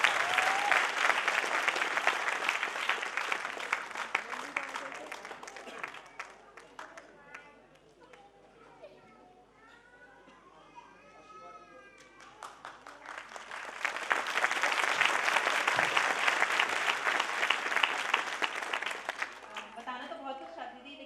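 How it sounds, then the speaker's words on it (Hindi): Loud audience applause at a school celebration on 26 January, with two strong waves of clapping separated by a quieter stretch where someone speaks, and crowd chatter throughout. "जोरदार तालियां हो जाए"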